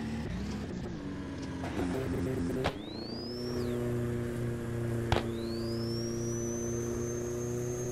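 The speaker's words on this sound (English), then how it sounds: "Damn, that turbo spools up quick." A massively turbocharged AWD Honda Civic in the Assetto Corsa racing game revs with a steady engine drone, while the turbo spools twice in quick succession with a rising, whistling whine that climbs after each sharp shift.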